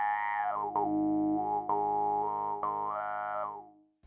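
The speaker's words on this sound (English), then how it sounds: "the Vox filter, which adds formants and sounds like this" A synthesized tone from Kilohearts ONE synth with a Vox filter sweeping through vowel-like formants, with four rhythmic retriggered notes. The sweep rises and falls, then the tone fades out.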